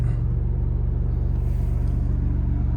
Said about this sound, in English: you can hear now the exhaust is rather hollow, so it'll make a lot more noise